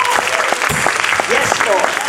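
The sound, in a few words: congregation hand clapping in praise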